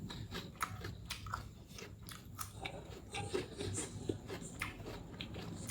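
Close-up crunchy chewing of jicama, repeated crisp bites and crunches in a steady rhythm, with no talking.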